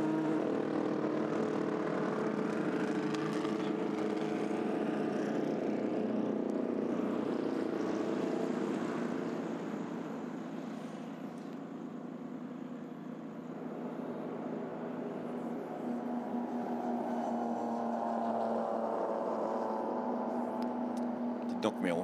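The Ferrari number 60 race car passes on the track at the 24 Hours of Le Mans, a sustained engine roar that swells and fades as it goes by.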